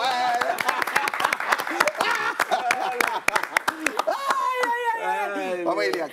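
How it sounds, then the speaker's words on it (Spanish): A small group claps close by at a Spanish-language broadcast, sharp uneven hand strikes with cheerful voices talking and calling out over them as the clapping thins toward the end. "Un aplauso para ver."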